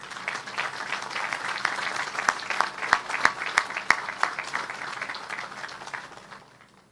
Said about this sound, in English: Let's applaud and thank this beautiful family.